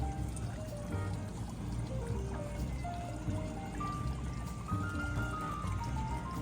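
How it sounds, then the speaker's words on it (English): A bubbling outdoor fountain at a shopping and dining plaza pours and trickles in a steady, continuous wash of water, with faint background bustle and tonal whistles or chimes drifting over it. "There is also an enchanting bubbling fountain"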